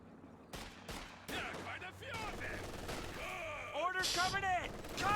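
Rapid bursts of MG34 machine gun fire from the strategy video game Company of Heroes 2, mixed with other battle gunfire and explosions over about five seconds while a commentator talks throughout.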